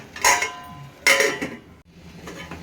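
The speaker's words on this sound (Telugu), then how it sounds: "మూత పెడదాం." A metal lid clanks onto a cooking pot of frying masala for drumstick biryani: two sharp metallic clinks about a second apart, close and fairly loud, then quiet sizzling.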